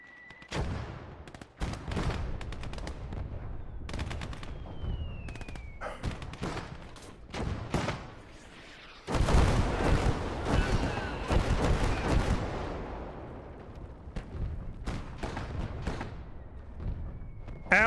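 Heavy artillery fire in a video game, with repeated booming blasts and bursts of gunfire crowding together loudly over about eighteen seconds, including a dense barrage midway.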